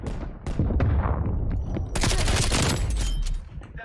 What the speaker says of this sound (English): Hand cannon firing, Charlie.